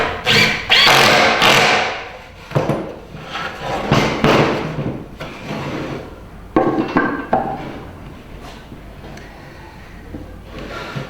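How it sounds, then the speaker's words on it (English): Power screwdriver driving screws into timber while a wooden bird box is assembled, loud whirring bursts starting and stopping with knocks and thuds between runs, close by. "I'm going to get on with screwing that lot together"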